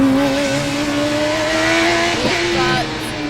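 A Formula Student race car with pneumatic gear shifting, at an autocross, holds a steady high engine whine, then drops in pitch as it passes close by and fades into the distance.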